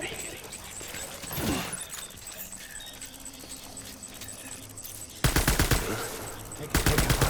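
Gunfire in Death Stranding arrives as bursts of dense, loud rapid shots, with a dog-like whimper and other game noise earlier and a voice talking in between.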